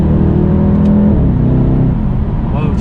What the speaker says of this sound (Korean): 차가 어느 단수든지 4000rpm이 넘어가면 상당히 무지막지하게 나가는데